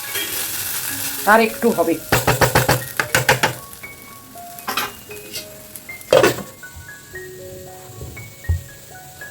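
Potatoes frying in a pan with sharp clinks and scrapes of a utensil stirring against the metal, a soft sizzle underneath and someone speaking briefly.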